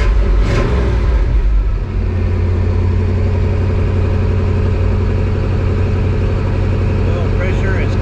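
A 1983 Chevy C-30 dump truck engine cranks briefly and catches, then settles into a loud, steady rumbling idle close by.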